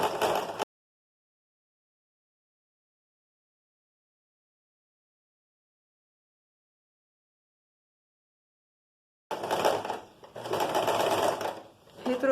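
Sewing machine stitching a pleated skirt seam, in two bursts separated by a long silent stretch: a brief run at the start, then a steady, close stitching run near the end.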